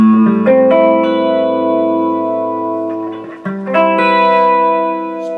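A Gibson ES-137 electric guitar, both volumes and both tones set at 7, played through an amplifier: sustained ringing chords that change a few times, with a short gap before a fresh strum, thick and reverberant, no talk.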